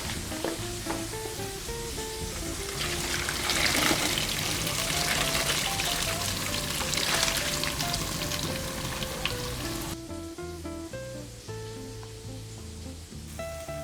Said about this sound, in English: it's time to drain our pasta